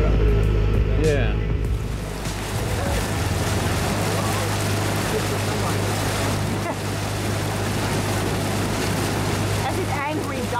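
An outboard boat engine runs and revs near the water at Deadman Key, Florida, a steady motor drone with wind and water noise, and people talk over it.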